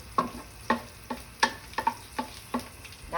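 Garlic fries and is stirred in a pan for garlic shrimp, giving close, sharp scraping sizzle bursts in a steady rhythm about every half second, with a quiet hiss between strokes and no talking.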